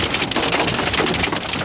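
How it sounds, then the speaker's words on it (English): Heavy rain and hail pound down during a thunderstorm while storm chasers drive inside it, a loud, dense, continuous roar of drops and hailstones battering the car with no break. "chasing a thunderstorm that it's cloaked in rain and hail"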